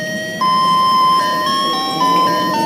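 A Doraemon bamboo-copter toy plays a loud, bright electronic melody of sustained tones that step between pitches, close up and without talking.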